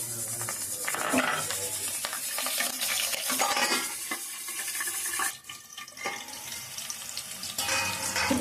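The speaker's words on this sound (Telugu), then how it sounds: "ఇప్పుడు మనం పచ్చిమిరకాయలు కూడా వేసేసుకుందాం" Green chillies hit hot tempering oil for a goat leg curry, giving bursts of loud spattering sizzle with stirring scrapes, a brief dip around the middle, then sizzling again, with no talk.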